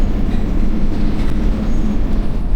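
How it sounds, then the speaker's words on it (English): Interior of a train ride at Disneyland Paris, a loud steady rumbling roar of wheels on rails with continuous broadband noise and no voices. "So we have made it onto the train."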